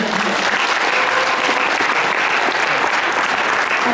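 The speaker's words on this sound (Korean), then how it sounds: "이기사님들 박수 한번 부탁드리겠습니다" Loud, steady applause from a large audience at a Melaleuca Korea convention award ceremony, continuous crowd clapping with no break throughout.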